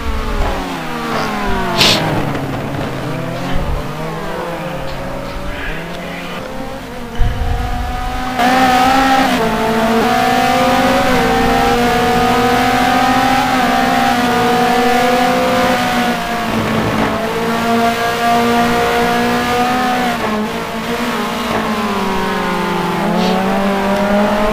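Spec race cars at full throttle on the Magny-Cours circuit during a Race of Champions event, engines screaming loud and close with rising and falling pitch through gear changes, a sharp transient near the start and a sustained roar down the straight.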